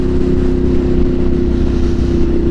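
A motorcycle engine drones steadily and loudly throughout a night ride, a constant low rumble with wind noise and no talking.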